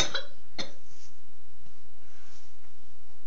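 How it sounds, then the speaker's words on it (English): A young girl with allergies coughs twice in quick succession close by, followed by quieter breathing and soft rustling. "cough because she has allergies"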